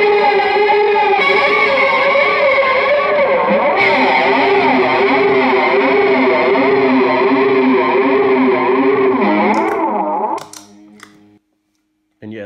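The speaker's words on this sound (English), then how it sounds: "You've got the feedback up, and then you also use that with the flanger and the distortion" A sustained, distorted guitar tone howls with feedback while a sweeping flanger warbles through it, then cuts off abruptly near the end.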